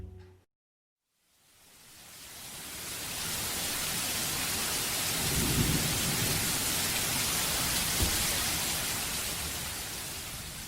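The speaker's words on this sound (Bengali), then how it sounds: "আকাশ ভেঙে বৃষ্টি পড়ে, ঝড় এলো রে আজ" Heavy rain pours down in a dense, steady roar with deep rumbles of thunder rolling beneath it, loud and continuous after a brief silent start.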